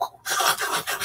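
A voice imitates the tent-flapping snore of obstructive sleep apnea: after a brief pause comes a sustained, raspy, fluttering exhalation lasting about a second, close and fairly loud.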